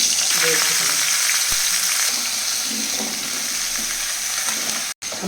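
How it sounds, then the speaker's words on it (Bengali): Sweet pumpkin pieces fry in a little oil, giving a steady close hiss and crackle with occasional stirring, cutting out briefly near the end. "আমি মিষ্টি কুমড়োটা একটু ভেজে নেব হালকা তেলে"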